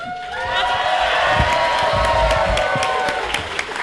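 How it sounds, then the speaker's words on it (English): A crowd bursts into loud applause with cheers and whoops, clapping swelling and holding steady before easing off. "let's have a huge round of applause for Scott Sigler,"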